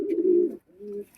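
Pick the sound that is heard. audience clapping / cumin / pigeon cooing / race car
pigeon cooing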